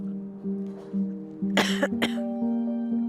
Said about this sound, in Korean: 참아도 터져나오는 기침.